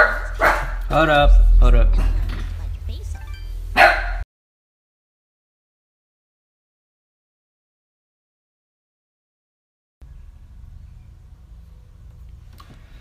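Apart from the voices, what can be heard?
dog barking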